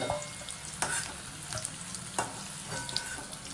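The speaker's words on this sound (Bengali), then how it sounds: "এবার আলুটা ভাজা হয়ে গেছে, আমরা কড়াই থেকে এক এক করে আলুটা তুলে নেব" Potatoes fry in hot oil in a wok for a Bengali aloo dum, a soft, steady sizzle broken by light, regular clinks of pieces being lifted out one by one.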